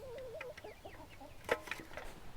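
Young pullet hens cluck and chirp in a quick irregular series close by, near a goose, with a sharper burst partway through over quiet outdoor background.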